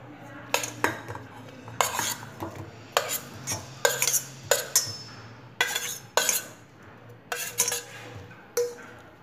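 Fried potatoes are mixed into a spice mixture in a pan: a metal spoon scrapes and clinks against the pan in repeated sharp strokes, with a faint sizzle and a low steady hum underneath and no talk.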